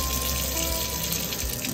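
Water runs steadily from a tap on a storage tank in a barn during a freezing power outage, a continuous even hiss and splash with no voices.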